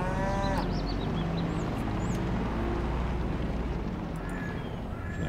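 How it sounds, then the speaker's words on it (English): Cows moo in Farming Simulator 22, one long low call near the start over a steady dull farmyard background. No one speaks. "The cows are busy eating there."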